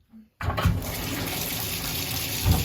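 After a short faint sound, water gushes steadily and loudly into a bathtub and keeps running throughout.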